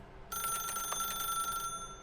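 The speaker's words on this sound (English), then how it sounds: "pick up the phone" A telephone rings in The Stanley Parable, a single long electronic trill of bell-like tones starting abruptly and holding steady for over a second before cutting off, loud and clear with no talk over it.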